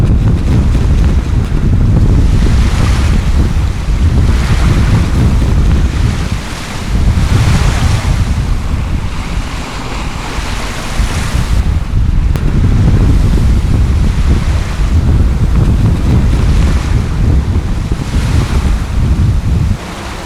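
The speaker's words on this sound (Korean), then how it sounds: "바람은 태풍에 근접하는 시속 50km를 넘나들었다." Strong near-typhoon wind roars at sea off Jeju amid three-metre waves, a loud, continuous buffeting rush with heavy wind noise on the microphone and surging surf, dipping briefly before building again.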